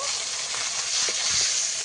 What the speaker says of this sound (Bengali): মাছগুলোকে একটু উল্টে পাল্টে দেবো ভেজে নেওয়ার জন্য